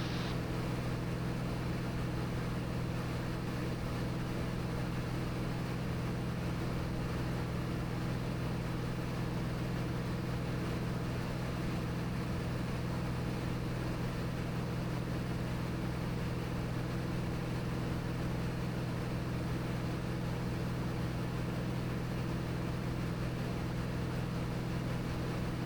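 Cirrus SR22T aircraft with a four-blade propeller in flight, a constant, droning engine and propeller hum heard from inside the cabin, steady and unbroken throughout.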